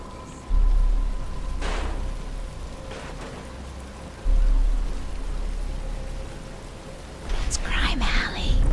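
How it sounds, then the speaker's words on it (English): Steady rain pours through a Batman Arkham Asylum game scene, a constant hiss with a few louder gusts, and faint voices murmur near the end. "But it's starting to rain"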